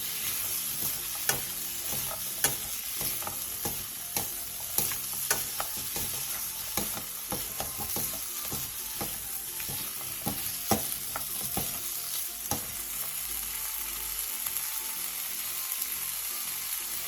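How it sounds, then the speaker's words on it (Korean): Carrots stir-fried in a pan produce a steady, close sizzle throughout, punctuated by frequent clicks and scrapes of the utensil against the pan, with no talking. "그 다음 당근을 넣고 당근이 어느 정도 익을 때까지만 볶아내주세요."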